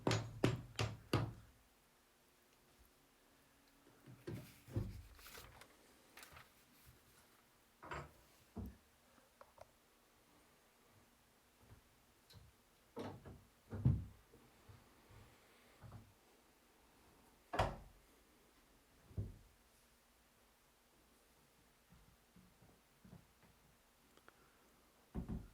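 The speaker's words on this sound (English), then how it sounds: "you can remove the hinge pins and remove the door" Hinge pins being removed from an old interior door as it is taken off, with scattered sharp knocks, taps and wooden clunks separated by quiet pauses.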